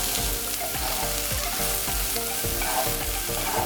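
Zucchini, eggplant, red capsicum and mushrooms fry in a hot pan, a dense continuous sizzle with rhythmic scraping stirs, close and loud, no speech.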